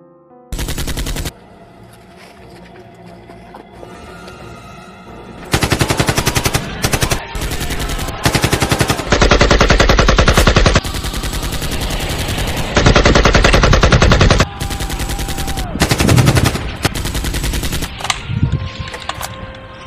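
Machine gun fire in an Indian army skit set in a jungle: long, loud automatic bursts of several seconds each, separated by short quieter gaps, with a few shorter bursts near the end and no talk.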